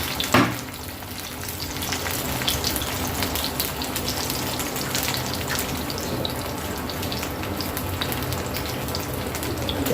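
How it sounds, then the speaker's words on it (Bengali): An egg fries in a pan in a home kitchen, with continuous close sizzling and fine crackling pops that hold steady throughout, and no voices. "তো এই জন্য তোর জন্য একটা ডিম ভাজি করে দিচ্ছি"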